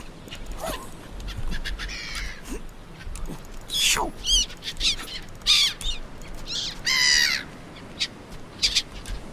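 Seabirds crying and squawking in the Stranded Deep survival game, several harsh calls rising and falling in bursts over a steady background of wind and surf, with no talking.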